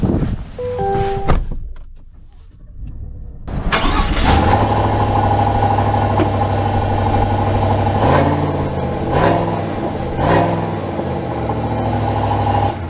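A 2024 Chevy Silverado 1500 LT pickup cranks over and catches after a brief quiet pause, then settles into a steady idle with a few loud revs, close and alone with no talking.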